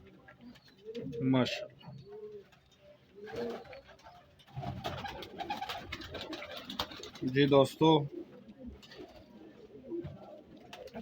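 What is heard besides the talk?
pigeons cooing in loft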